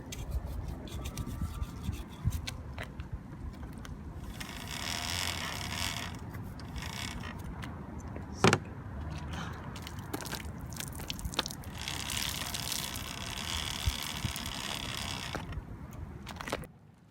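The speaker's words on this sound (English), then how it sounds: "So you're washing the chain with degreaser and soapy water." A bicycle chain is washed with degreaser and soapy water, producing continuous close-up scrubbing and rubbing with scattered sharp clicks and rattles from the chain over a long stretch.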